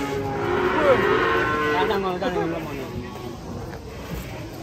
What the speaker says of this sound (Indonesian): Ini sapi unik guys.